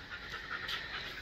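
Pet dog panting, soft rapid breathy pants close by, faint and alone.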